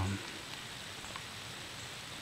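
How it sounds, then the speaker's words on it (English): Steady rain falls in the woods of a public-land wildlife management area during a deer hunt, a soft even hiss with no breaks. "It's raining right now."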